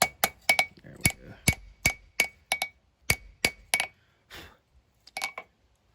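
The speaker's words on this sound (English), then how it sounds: "now when I start back forging on my blade, this will just slowly start straightening back out." A hammer strikes a small knife blade on an anvil during forging, a series of sharp ringing metallic blows in an uneven rhythm, close and loud, with a brief gap before a final few hits.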